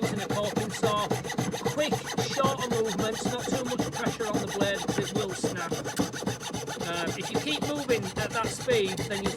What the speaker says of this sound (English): the technique she's using there, which is absolutely spot on for using a coping saw